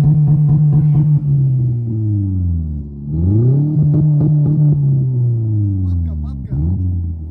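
A mud-caked car's engine revs in rising and falling sweeps, loud and close, its harmonic drone climbing and dropping twice over a steady idle.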